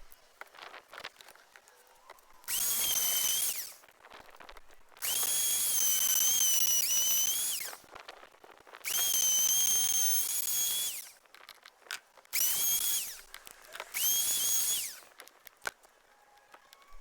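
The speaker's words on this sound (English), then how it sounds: "router's the choice." A wood router whines loudly in several bursts, a few seconds each, cutting wood for a TV stand, separated by quieter gaps with light clicks and handling noise.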